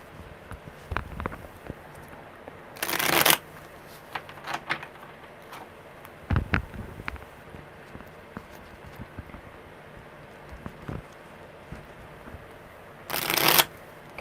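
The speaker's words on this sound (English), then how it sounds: "one more good shuffle" Tarot cards are shuffled in a few quick, soft riffling bursts spaced across a quiet room, with light handling noises in between.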